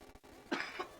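A short, close cough, one voiceless burst followed by two smaller hacking bursts, fairly quiet and alone.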